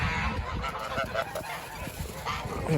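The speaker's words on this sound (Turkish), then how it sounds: "Kazlar da bunu böyle yavaş yavaş yavaş yavaş yiyorlar" Several geese honk and chatter nearby, overlapping calls over a busy, rustling background.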